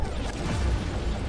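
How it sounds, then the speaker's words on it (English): Heavy explosions rumble through a battle in the video game Dust: An Elysian Tail, a loud, continuous low roar of overlapping blasts. "excessive explosions."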